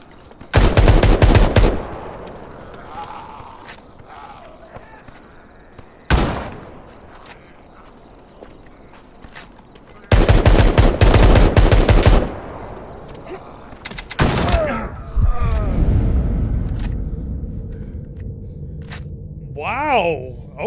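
Shotgun and other gunfire in The Day Before PvP, loud bursts and single heavy blasts spread out over time, with pauses and later echoing tails and some faint background sounds.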